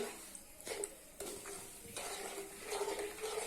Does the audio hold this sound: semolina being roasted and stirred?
yes